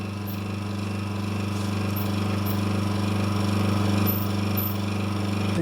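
A circa 1957 Australian-made Frigidaire fridge with a rotary compressor running, a steady low mechanical hum with a harsh rapid rattle, constant and close, with faint occasional chirps above it.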